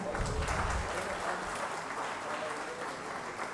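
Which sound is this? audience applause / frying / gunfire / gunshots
audience applause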